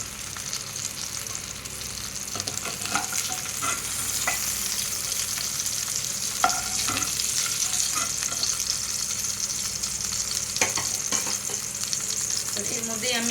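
Pointed gourd pieces sizzle in hot oil, with a busy crackle and occasional scrapes and clinks of a spatula lifting them from the pan.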